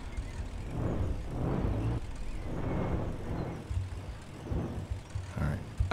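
Car driving in the Roblox game Jailbreak, a low engine rumble rising and falling in waves, with a player's voice over it.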